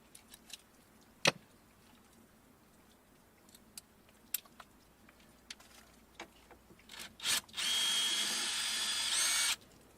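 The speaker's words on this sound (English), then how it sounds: "you get a star bit and you just unscrew those two pieces" A power driver with a star bit runs in one steady sustained burst of about two seconds near the end, backing out screws on a Ford Mustang Mach-E rear during an install. Brief knocks and handling clicks come before it.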